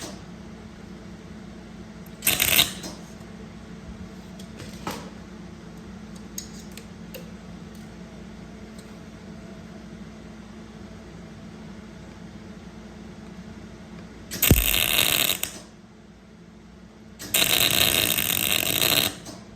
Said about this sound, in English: Let's see if it'll hold it in place where I can get a little bit of a weld on there to get it stuck